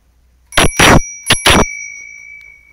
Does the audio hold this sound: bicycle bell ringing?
yes